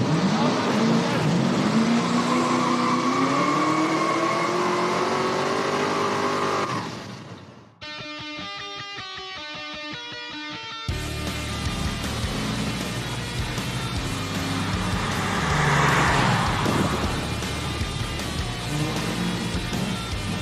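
A hot rod with a fully forged, intercooled engine drives by, engine note rising and falling. The sound cuts abruptly to a different, lighter mechanical texture, then returns to a loud, rushing road and engine roar.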